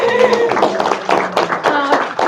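Members at a student senate meeting clap in a brief burst of sharp, scattered hand claps. Talking and cheering voices run underneath, and the claps end within a few seconds.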